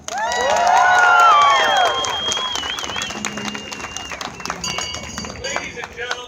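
A large outdoor crowd claps, cheers and whoops for James Stewart, town crier of New Glasgow, Nova Scotia, at Boston's Christmas tree event, loud at first with shrill shouts, then settling into lighter scattered clapping and cheering.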